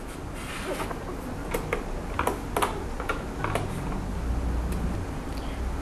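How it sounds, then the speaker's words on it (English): A screwdriver works the four screws on the back of a TA100 reader, making small irregular ticking and clicking sounds close by over a steady background hiss, with no talking. "Unscrew the 4 screws at the back of TA100 reader by using screwdriver"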